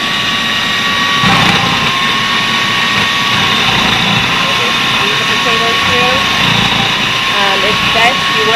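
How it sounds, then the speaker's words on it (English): A Cuisinart food processor fitted with its slicing blade cuts potatoes, giving off a steady, close motor whine with a broadband hum that runs unbroken throughout while a person talks over it. "So I put my slicing blade in my Cuisinart."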